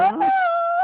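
A dog lets out a short, high, wavering howl-whine, close and clear, lasting under a second with no talk over it.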